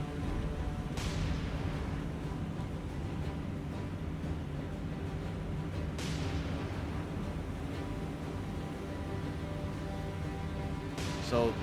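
Heavy booming explosions and gunfire roll over a burning ship in the naval combat game War on the Sea, with sharp blasts near the start, around six seconds and at the end over a constant dense rumble.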